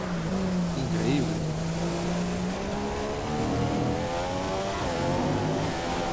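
A Mercedes Formula 1 car in the PC racing game F1 2015, lapping the Mexican Grand Prix circuit, its engine holding a steady, buzzing whine that rises and shifts in pitch with revs throughout.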